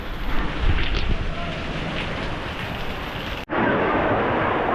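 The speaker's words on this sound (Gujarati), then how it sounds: "તો તમે પાછળ જોઈ શકો છો હાથની માતા વોટરફોલ છે અને કેટલું બધું પાણી પડે છે" The Hathni Mata waterfall near Jambughoda pours heavily, giving a continuous broadband roar with gusty wind buffeting the microphone and a brief cut partway through.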